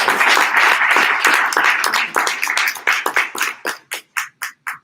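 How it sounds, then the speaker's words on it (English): An audience applauds speaker Guy Troupe. Full clapping and cheering builds at first, then thins to a few scattered individual claps that fade out one by one. "First, let's give Guy a round of applause."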